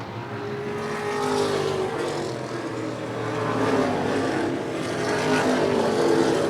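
Modified race cars roar around a track in close competition, a dense, continuous engine howl that surges and fades as the pack passes, with several motors layered together at a steady, loud level.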